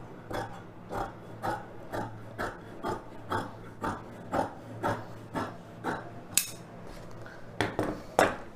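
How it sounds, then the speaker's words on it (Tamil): Scissors cut a chudidhar lining fabric piece in a steady series of soft, close snips, roughly two per second, fairly faint against a quiet room. "பீஸை கட் பண்ணி எடுத்துக்கலாம்."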